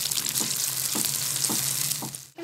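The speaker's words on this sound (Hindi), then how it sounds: "मसाला अच्छे से भून गया है" Masala for chana dal mangochi fries in a pan with a steady, close hiss and sizzle, punctuated by about four regular scraping stirs before a brief pause at the end.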